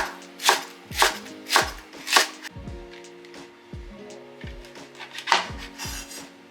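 Kitchen knife chopping leeks on a cutting board for vegan sukiyaki: crisp, close, evenly paced strokes about twice per second, then a few slower cuts.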